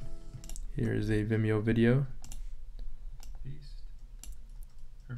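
A few crisp computer mouse clicks land one by one after a brief stretch of someone speaking, sharp and close against quiet room tone.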